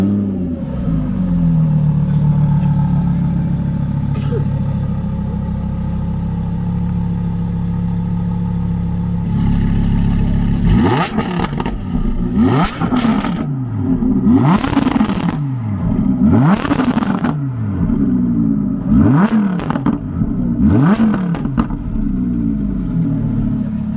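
A tuned Audi with carbon bodywork and ceramic brakes revs hard in a series of sharp, loud throttle blips after a steady idle, each rev rising and falling quickly, close by with no talking.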